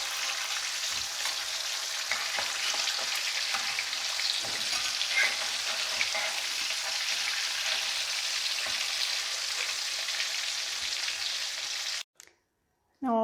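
Karimeen fish fries in a pan with a steady, dense sizzle and spitting oil that runs evenly for about twelve seconds, then cuts off abruptly.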